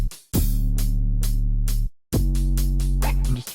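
Distorted 808 bass line with reverb in an FL Studio rock beat mix: two heavy sustained notes with a brief gap between them, layered with repeating percussive hits.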